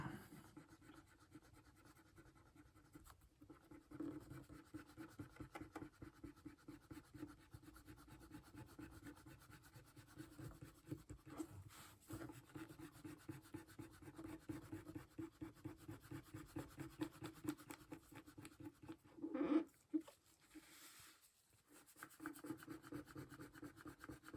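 Steady rhythmic rubbing and scrubbing against the gunk-covered back cover of a Giant Size X-Men #1 comic book, close and moderately quiet, with repeated short strokes and a brief louder scrape near the end, no talking.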